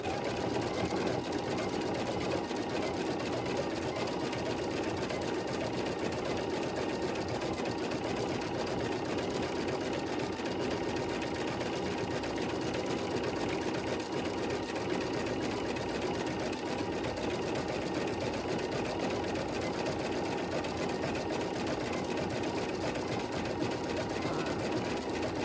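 A sewing machine runs continuously through a decorative stitch sequence, its needle hammering in a fast, even mechanical rhythm with a steady motor whir and no pauses or voices.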